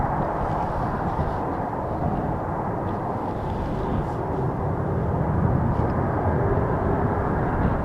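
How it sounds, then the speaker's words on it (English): A departing airliner's engines at Amsterdam Schiphol Airport, runway 36L, give a steady, loud broadband roar that holds evenly and swells slightly toward the end. "we can start to hear the engines of this beautiful plane"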